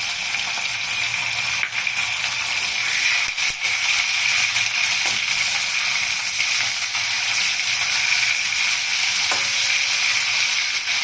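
Cauliflower frying in a pan with a little salt and turmeric for a Bengali fish curry, a loud, constant hissing sizzle with occasional clicks and knocks, no voices.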